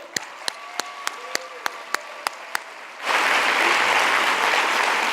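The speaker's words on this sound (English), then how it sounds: "A big applause to the youth" A few sharp, evenly spaced claps come first, then the audience at a UN NGO conference closing session breaks into dense, loud applause that carries on steadily.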